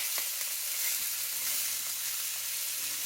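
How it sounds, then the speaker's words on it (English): Pork ribs seasoned with salt and pepper sizzle steadily as they sear in a hot pan, a continuous close frying hiss with no talk. "I can see it sizzling."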